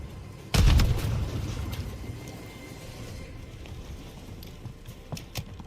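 A single deep thud of a grenade blast in a first-person shooter game, sharp onset and rumbling decay, followed by scattered faint gunfire pops in the background; no talking.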